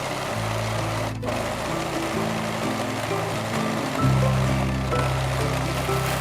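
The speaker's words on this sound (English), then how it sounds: "I finish the raw edge with an overlock stitch" An overlock sewing machine finishes the raw edge of pyjama pants, its steady mechanical whir running continuously at close range with a brief change in pitch partway through, no voices present.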